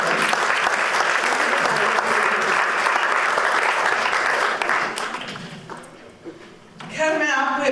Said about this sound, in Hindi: इन लोगों के लिए आप तालियां बजाएं और इनका स्वागत करें